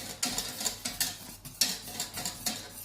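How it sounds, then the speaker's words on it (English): Custard being whisked in a bowl, a rapid run of light metallic ticks and scrapes from the whisk with a steady rhythm, close and fairly quiet. "Make sure that's all whisked round."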